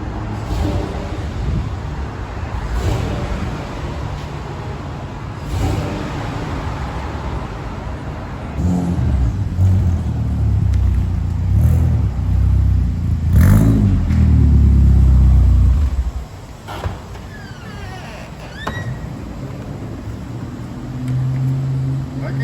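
A Mk2 Volkswagen Golf 1.8T engine with a new exhaust rumbles and revs loudly a few times, deep low growl swelling then cutting off, with outdoor background noise.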